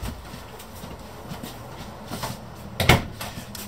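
The bathroom door in a 2019 Keystone Bullet Premier 19FBPR travel trailer is worked, giving soft rattles and light knocks that end in one sharper thud as it shuts.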